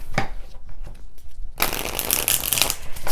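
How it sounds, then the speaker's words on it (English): A deck of tarot cards shuffled by hand: a brief riffle near the start, a quieter pause, then a dense, loud stretch of rapid papery card flicks that runs to the end, close up with no talking. "I'm just going to give a quick shuffle and pick a card for us."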